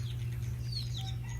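A chicken clucks a few times in the distance over a steady low hum and faint background noise.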